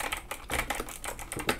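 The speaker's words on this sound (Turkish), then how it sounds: "Klavyemiz mekanik olduğunu söylemiştim. Switchler çok gürültülü değil. Hatta çok ideal bir ses tonu var." Rapid typing on the mechanical switches of an 8BitDo Retro Mechanical Keyboard C64 Edition, a steady run of close, crisp keystroke clicks without talk.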